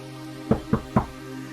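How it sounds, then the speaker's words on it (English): Three quick, evenly spaced knocks on wood, close and dull, heard alone against a quiet background. "knock on wood."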